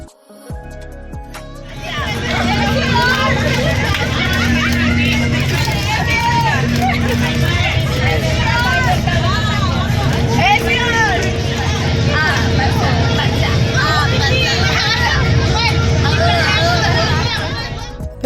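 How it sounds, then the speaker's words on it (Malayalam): Students fill a moving school bus with loud, continuous chatter, shouts and laughter, layered over the low rumble of the engine. "ബസ്സിലുള്ള ആരവാരങ്ങളൊക്കെ കേട്ടല്ലോ"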